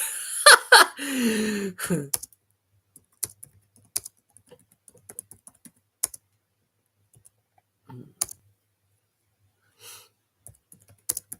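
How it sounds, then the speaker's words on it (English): Scattered keyboard keystrokes click in short bursts and single taps after a brief laugh-like voice at the start, with quiet pauses between. "So I'm typing."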